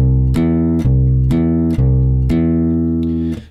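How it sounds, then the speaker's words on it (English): Bass guitar playing a major third interval in a beginner lesson. Sustained low notes are restruck several times in a steady rhythm, loud and close, with no talk. "The major third is what we're hearing right now."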